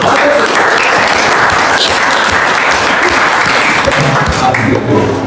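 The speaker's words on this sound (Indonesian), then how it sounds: "berikan aplaus buat." Classroom applause from students in a school lesson: loud, dense clapping that fills the room and carries on continuously for about five seconds.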